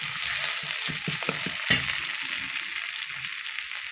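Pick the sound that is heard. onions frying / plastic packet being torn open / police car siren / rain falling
onions frying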